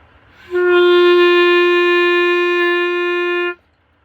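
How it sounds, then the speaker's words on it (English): A single clarinet note held steady for about three seconds, full and resonant with no airy breathiness, starting and stopping cleanly and played alone. "it was a nice full clarinet sound"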